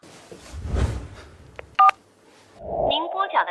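Telephone keypad dialing tones, a short cluster of sharp beeps in the middle, come between spoken voices before and after.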